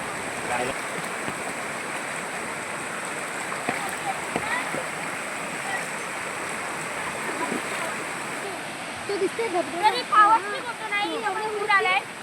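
River water rushes steadily throughout a crossing on a Kokan farm outing, a broad continuous wash with splashing from people wading, while voices talk and call out over it, growing livelier near the end.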